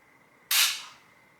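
A rifle is dry fired, giving a single sharp, close trigger click that decays quickly, alone against a faint background hum.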